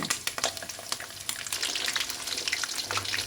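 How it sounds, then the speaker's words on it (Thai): Fish frying in a wok lined with banana leaf after a light salting, a loud, continuous crackling sizzle with scattered sharp pops, close up and steady throughout. "แล้วก็วางปลาลงไปเลยค่ะ วางปลาลงไปทอดเลย"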